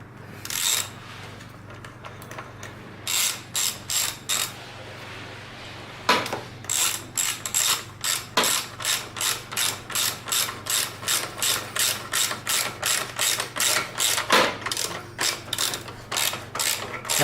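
A ratchet tightens the exhaust clamps on the mid pipes of a Yamaha YZF-R, giving long runs of quick, sharp clicking strokes, close and loud, with short pauses between bursts.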